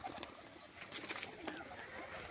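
Jacobin pigeons coo softly at close range, with faint low calls and a few light chirps over quiet background noise.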